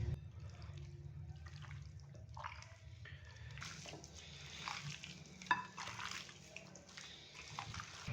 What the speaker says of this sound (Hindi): तो अभी हाथ की मदद से चिकन को अच्छे से मिक्स करेंगे